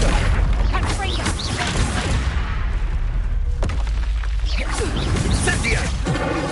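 A Confringo blasting spell explodes in the Hogwarts Legacy video game, a booming hit amid a loud, busy mix of combat effects and music while someone talks over it.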